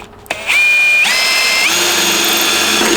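A 5/32 drill bit bores a pilot hole through the thin steel wall of an ammo can, a steady high whine of the power drill running continuously and close, with a slight pitch shift as the bit cuts through.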